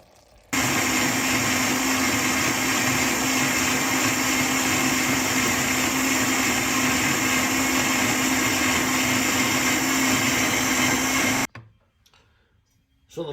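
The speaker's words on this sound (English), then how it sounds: "add it to my blender, add the vegetable stock, and go ahead and blend it up." A kitchen blender purees cooked vegetables with vegetable stock for a vegan stew, running as a loud steady whir for about eleven seconds before it stops abruptly.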